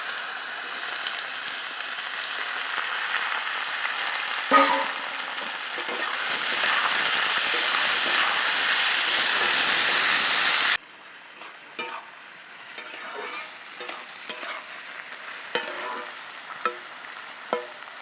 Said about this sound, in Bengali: ভেজে নিলাম, হাফ ভাজা করে নিয়েছি